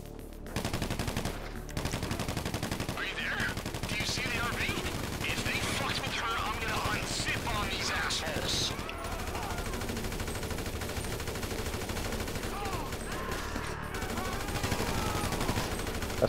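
Rapid bursts of automatic gunfire and scattered shots fill the scene in GTA 5 Online during a Los Santos drug wars mission, loud and dense throughout with game noise layered beneath.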